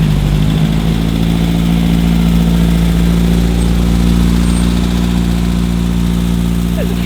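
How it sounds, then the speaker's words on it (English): A Porsche 911 rolling in at a Porsche and coffee car meet in South Melbourne, its engine a loud, close, steady low rumble throughout, with no talk over it. "Got a 911 driving in, and then a combo behind it."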